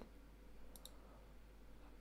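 Two quick, faint clicks of a computer mouse, close together over a low steady hum, with no talking.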